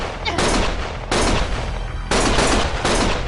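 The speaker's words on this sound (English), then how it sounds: "Stop shooting!" Heavy gunfire from a shootout in the video game Lost Judgment, with loud sustained bursts of full-auto fire arriving in three or four blocks that fill the clip, with a brief gap at the start.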